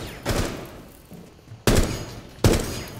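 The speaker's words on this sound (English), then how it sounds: "We gotta shoot the bombs." Gunfire in Rainbow Six Siege aimed at bombs during a terrorist hunt at Hereford Base, with three loud close shots or bursts spaced about a second apart, each trailing off into a fading reverberant tail.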